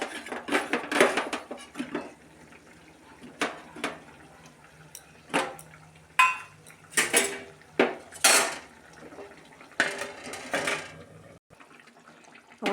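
Metal pots, pans and cutlery clatter and clink in irregular bursts while egg curry cooks, with a lid set over the pot among them; the knocks are close and fairly loud, with brief water from a tap in between.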